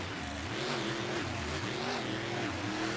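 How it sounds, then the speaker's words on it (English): Racing trucks pull up to the starting line at an Anaheim race track, their engines droning loudly and steadily with slow rises and falls in pitch. No one talks. "Both trucks pulling up to the line stage, ready to go."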